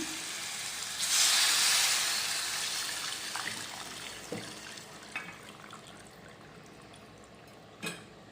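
Tamarind broth poured into a fish curry simmering in a clay pot makes a loud, steady rushing splash for about two seconds that tapers to a soft hiss, followed by a few light knocks.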